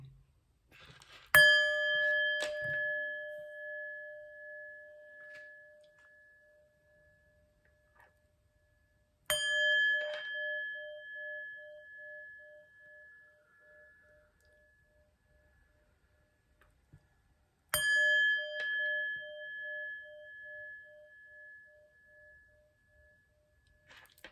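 Three clear, bright chime strikes spaced several seconds apart, each ringing out with a sustained tone that slowly decays into near silence before the next, heard alone with no talk.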